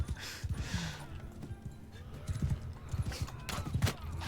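Horse hoofbeats in the video game Bannerlord, a soft irregular clip-clop of galloping hooves at moderate distance, mixed with faint battle ambience and occasional creaks.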